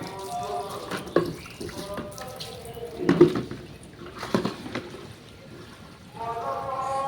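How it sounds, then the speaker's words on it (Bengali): Tap water runs in a village kitchen in uneven splashing bursts that rise and fall, with some clatter of vessels and faint background voices. "এদিকে দেখো কলের জল চলে এসেছে"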